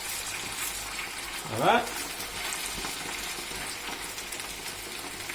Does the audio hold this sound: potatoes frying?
yes